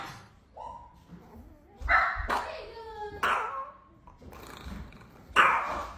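A dog growls, whimpers and lets out yipping barks in short, uneven bursts. It sounds close and fairly loud, with quiet gaps between the outbursts.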